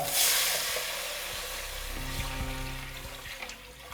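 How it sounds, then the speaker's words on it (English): Liquid pours into a pot of golden fried onions for Punjabi pakora kadhi, a steady close trickle and splash with faint sizzling beneath, fading slightly toward the end. "And now this liquid goes in here."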